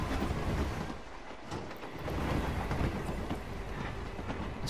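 A train rolling along in the Hitman 3 video game, a steady broadband rumble with faint rhythmic clatter of wheels, continuous and fairly close, with no talking.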